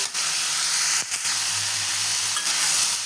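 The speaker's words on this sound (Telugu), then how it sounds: "ఒక నిమిషం ఆగి ఆలుగడ్డలు, క్యారెట్లు కూడా వేసేసేయాలి." Potatoes and carrots frying in a pan while semiya upma is cooked, a steady, loud sizzle with brief stirring scrapes throughout.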